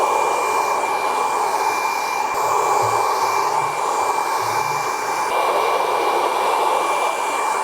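Steady, close hair dryer fitted with a nozzle blows continuously while drying medium-length men's hair styled through with a Denman brush, a constant even whoosh with slight shifts as the airflow is directed.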